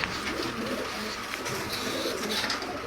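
Sialkoti pigeons coo softly in a loft, low repeated calls set in dense ambient noise.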